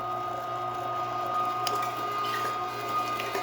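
A big meat grinder whirs steadily as it works a whole strip of pork for smoked Polish kielbasa, a continuous motor drone with faint squelching and crunching as the meat feeds through, close and moderately loud.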